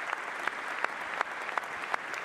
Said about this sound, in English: Trump's claps are the worst metronome ever.